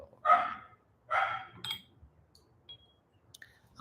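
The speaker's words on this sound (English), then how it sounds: "that puppy up there has no reason to be barking" A puppy lets out two short, fairly close barks about a second apart, followed by faint clicks and small scattered sounds.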